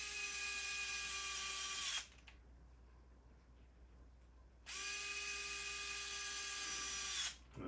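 A light electric screwdriver drives screws into the plastic of a Traxxas TRX4M RC truck, giving two close whirring bursts of about two seconds each, separated by a quiet pause.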